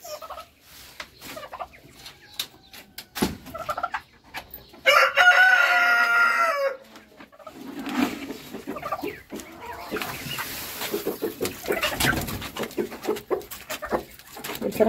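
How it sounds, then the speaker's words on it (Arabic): Hybrid hatchery-raised chickens cluck softly and scattered in a yard, then a rooster crows once loud and close partway through before the quiet clucking and rustling resume. "الفراخ الهجين بتاعتنا اللي احنا مطلعينها من الفقاسه"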